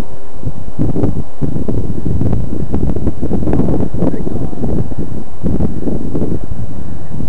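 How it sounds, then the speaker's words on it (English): Strong gusty wind blows outdoors and buffets the microphone in a loud, continuous roar that rises and falls over several seconds. "look at that wind"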